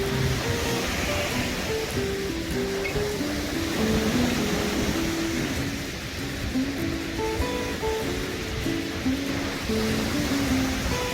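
Waves washing onto the Lake Michigan beach at Indiana Dunes along the Cowles Bog Trail, a steady rushing surf with soft swells, moderately near, with faint background music and no talk.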